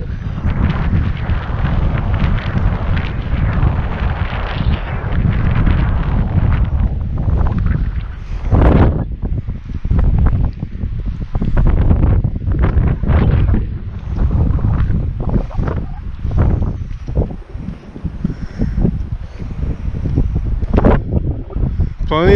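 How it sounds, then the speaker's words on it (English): Strong wind gusts batter the microphone in a loud, continuous roar, with brief lulls and surges throughout. "Here comes that wind again."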